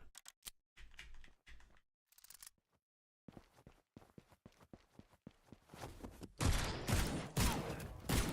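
Gunfire in a video game, scattered rapid clicky shots with short gaps that build into a dense, louder burst of firing toward the end.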